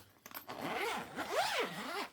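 A zipper runs along the accessory zip case of an Allpowers R600 power station, two close, distinct zipping strokes with rising and falling rasp, alone without talk.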